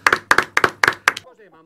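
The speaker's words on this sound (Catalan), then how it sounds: "Crec que això es mereix un aplaudiment" A handful of sharp claps in a loose rhythm, about five bursts over a second, then a voice begins speaking as they stop, in a Spanish local radio and TV studio after a thank-you for a mayor's donation.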